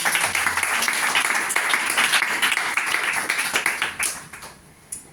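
An audience at a church conference in Brussels applauds loudly in a dense burst of clapping that thins into scattered claps and fades near the end.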